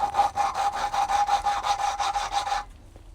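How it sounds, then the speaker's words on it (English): Valves in a Honda K20Z4 cylinder head being lapped by hand with a lapping stick, a steady rhythmic gritty rubbing that scrapes back and forth about a dozen times, close and clear, then stops abruptly. "Get a lapping stick. I haven't heard this noise in years."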